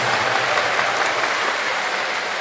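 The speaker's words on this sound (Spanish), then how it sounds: "den un aplauso bien fuerte para alabar y exaltar el nombre del Señor Jesús" A church congregation claps steadily and loudly together, a continuous wash of applause that holds evenly for a few seconds.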